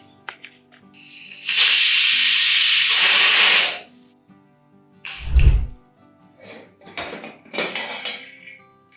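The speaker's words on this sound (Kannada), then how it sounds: "ಕುಕ್ಕರ್ ಮುಚ್ಚಳ ಹಾಕಿ 1 ವಿಷಲ್ ಬರುವವರೆಗೆ ಬೇಯಿಸಿಕೊಳ್ಳಿ." Pressure cooker on a stove cooking lentils, a loud steady hiss of escaping steam lasting a couple of seconds, followed by a low thump and scattered softer hisses and clatters nearby.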